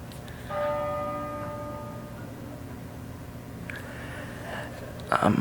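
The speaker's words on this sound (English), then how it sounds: "On the hour, I have a bell that goes off." An hourly clock bell rings out with a clear struck tone that slowly decays, followed by softer clinks and a brief rustle near the end.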